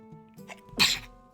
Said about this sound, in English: Oh, excuse me, I had to sneeze.